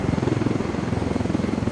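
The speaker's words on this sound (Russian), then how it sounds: "Главное не попасть под вот этот вот вертолет" An enemy helicopter in Ghost Recon Wildlands thrums with a steady, rapid rotor pulse, loud and close, filling the scene without any talk over it.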